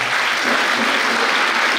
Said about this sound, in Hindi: ताली बजा दो जोर से